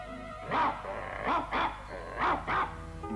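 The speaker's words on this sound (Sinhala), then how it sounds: "කොච්චර හයියෙන් බිරුවත් කාටවත් ඇහෙන්නේ නැහැ" A dog barks five times in two pairs and a final single, loud and close, with short gaps between barks inside what sounds like a large cave, with faint background hum and no talking.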